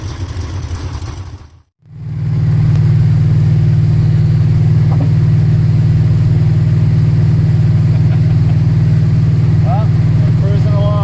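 A Pontiac muscle car with a makeshift Ford thermostat housing cruises on a Pennsylvania highway, its engine a loud, steady low drone heard from inside the car after a brief cut, with voices talking over it.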